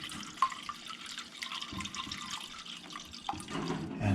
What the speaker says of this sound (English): Of course, you gotta add more water because it's just a lot more. I like to use clean filtered water.